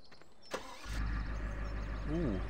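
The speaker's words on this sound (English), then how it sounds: "let's go jump in our truck and have a drive" A pickup truck's engine cranks and catches in a farming video game, settling into a steady, loud idle rumble that holds near and alone, with a brief rising whine toward the end.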